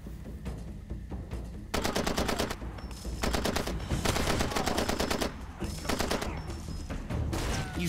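Machine gun fire in the video game Far Cry 2: repeated loud automatic bursts of rapid, evenly spaced shots with short pauses between them.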